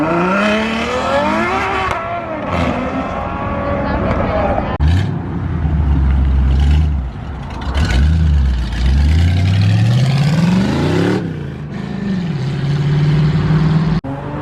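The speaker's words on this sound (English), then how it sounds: "Here goes Mason in the Supra. And he's off." A Toyota Supra accelerates hard away from a Cars and Coffee meet in Cypress, its engine note climbing and falling through several loud revving sweeps close by, with voices talking over the roar.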